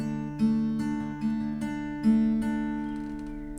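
Fingerstyle acoustic guitar plays the intro pattern of a song at a quick pace, plucked notes ringing over a sustained low bass, close and gentle, then letting the last chord fade.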